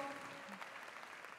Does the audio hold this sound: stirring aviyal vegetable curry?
no